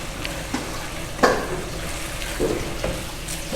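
Carrots and capsicum cooking in a pan with chicken, a low steady sizzle broken by a few spatula scrapes and clinks, no speech.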